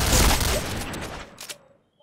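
Gunfire from a duel in the video game Point Blank, a dense loud burst of rapid shots that thins out and ends in quiet, with no voices over it.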